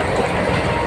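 Steady broadband rumble of a moving passenger train, the Varanasi Superfast Shuttle Express, heard from inside with a continuous roar and faint clickety-clack of wheels on rails, loud and unbroken throughout.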